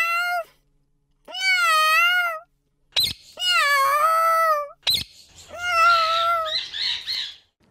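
A cat meows loudly and clearly several times, long drawn-out cries separated by short pauses, close to the listener with no talking.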